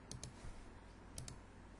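Two pairs of light key clicks on a computer keyboard, the H key being pressed twice in quick succession near the start and again just after one second, faint and close over a quiet room hiss.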